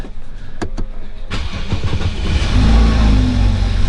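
A rebuilt, previously wrecked BMW F30 starts up after a couple of clicks, the engine cranking, firing and revving loudly up close before holding a strong, rising drone.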